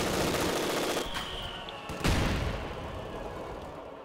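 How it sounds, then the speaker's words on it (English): Machine gun fire and scattered gunshots from the video game Company of Heroes 2 crackle in dense bursts, with a couple of sharper reports standing out in a busy battle mix. "trying to take this building away with the machine gun"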